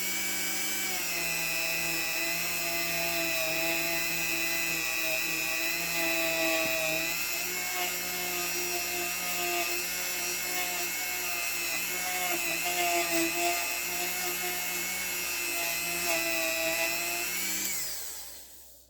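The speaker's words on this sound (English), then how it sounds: "these are like a, you know, a Scotch-Brite on a tip of a moto tool, and watch what it does" A moto tool fitted with a Scotch-Brite pad tip whines steadily against metal on a GT185, a continuous high-pitched motor drone with faint buzzing harmonics that holds for about seventeen seconds before spinning down.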